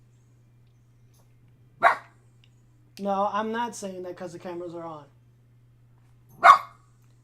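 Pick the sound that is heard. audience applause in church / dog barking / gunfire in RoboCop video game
dog barking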